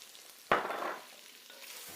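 Flour-dusted beef frying in a pot for beef bourguignon, with one sharp burst of sizzle that fades into a low, steady frying hiss, fairly quiet and close.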